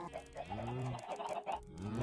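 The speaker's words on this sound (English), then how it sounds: "I killed a chicken by accident." Minecraft chickens clucking in short repeated bursts, a rising and falling series of game-sound clucks, moderately loud with no talk over them.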